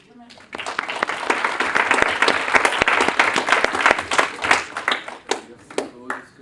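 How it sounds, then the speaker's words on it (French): Audience applause at a university conference on creative management, rising quickly into dense clapping, then thinning to scattered individual claps near the end, with some voices underneath. "on peut les applaudir"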